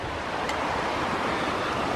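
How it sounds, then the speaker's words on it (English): A small side stream of a forest creek at a spring-fed channel rushes in a steady, dense wash of flowing water, loud and continuous with no voices. "The stream going off to the left is just a little side stream."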